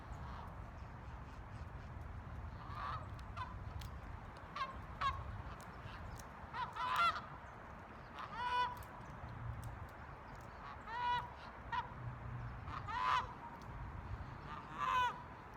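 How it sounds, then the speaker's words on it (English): A flock of about 66 geese honks outdoors, repeated nasal calls rising in irregular bursts over a steady low background, moderately distant and fairly faint. "About 66 geese."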